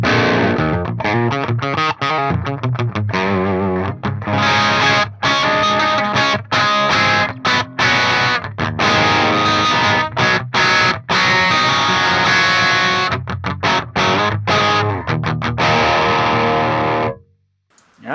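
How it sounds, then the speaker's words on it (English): Heavily distorted metal electric guitar riffs through a PVY Vector amp model set to mid gain with precision drive on channel 3, loud and dense with tight palm-muted chugs and brief stops, ending abruptly in near silence. "let's check out some mid gain with the precision drive on channel 3"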